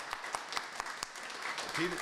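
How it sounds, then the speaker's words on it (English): Faint applause from an audience at a donation ceremony, scattered claps blending into a soft patter, with a voice speaking over it toward the end. "So I'd like to give her a round of applause. Clap loud."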